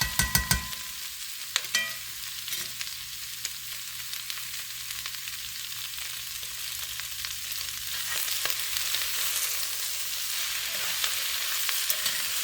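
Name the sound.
cabbage frying in a pan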